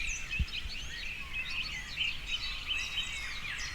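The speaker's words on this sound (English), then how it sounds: "Just birds greeting the day, singing their chorus" Several birds chirp and sing at once in a lively overlapping dawn chorus, moderately distant, over a quiet background hush.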